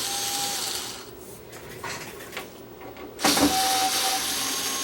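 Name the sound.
removing Torx screws with a Torx bit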